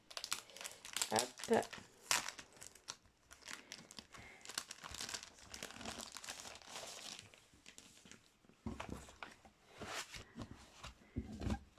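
Crinkling, tearing plastic packaging as a new set of die-cuts is opened, recurring in bursts over several seconds with someone talking over parts of it.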